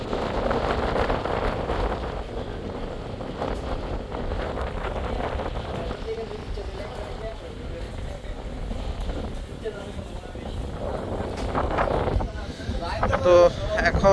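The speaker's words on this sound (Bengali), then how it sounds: "তবে বাতাসের চাপ আছে অনেক এখনো, আর বৃষ্টি হচ্ছে।" Strong storm wind buffets a river launch stuck in a canal at Bhola amid rain, a continuous roaring gusty rush that swells louder toward the end.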